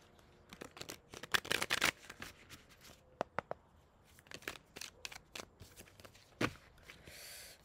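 Playing cards shuffled and drawn at a reading table, quiet riffles and flicks in short bursts with sharp snaps between, fairly faint and close, no voices.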